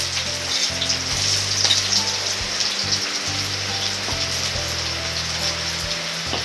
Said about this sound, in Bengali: পেঁয়াজগুলো আমি হালকা একটু ভেজে নেব